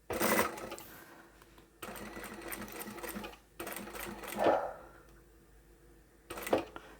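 Sewing machine stitching outer fabric up to a pin on a drawstring bag, several short bursts of whirring with brief pauses between them, close and fairly quiet.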